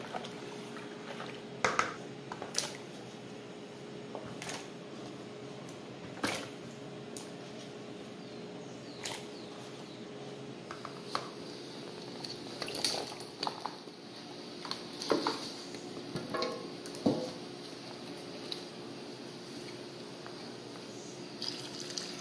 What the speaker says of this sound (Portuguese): vamos colocar as abóboras.